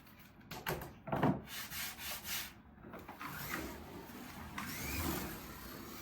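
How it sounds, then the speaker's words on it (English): Slot car tyres being cleaned with wet and dry sandpaper, a close, steady rubbing and scratching with a few louder strokes, quiet and continuous with no talk. "Let's give the tyres a bit of a clean up. Bit of wet and dry sandpaper."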